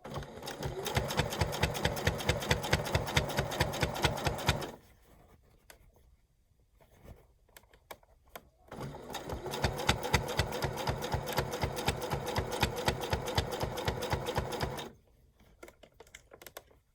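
A sewing machine runs in two steady, rapid bursts stitching a tuck in fabric for a steampunk snap-on bag, with a quiet pause of handling clicks between them and a brief tail at the end.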